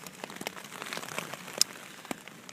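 Steady rain patters on a surface at a campsite on the Appalachian Trail, a soft, continuous hiss with scattered sharper drops and no voices.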